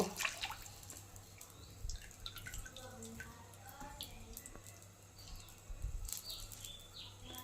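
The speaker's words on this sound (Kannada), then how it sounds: "ಇವಾಗ ನಾವು ಫಸ್ಟ್ ಕೊಕೊನಟ್ ಆಯಿಲ್ ಹಾಕಬೇಕು" Coconut oil is poured into a pan to start a homemade herbal hair oil, a faint, close liquid trickle and dripping that continues unevenly with a few louder splashes.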